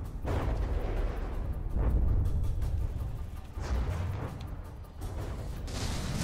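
Naval gunfire in the strategy game From the Depths, with ship guns on automatic while a torpedo swarm comes in: continuous heavy booming barrage, dense and loud throughout, with repeated blasts layered over a rumbling low roar.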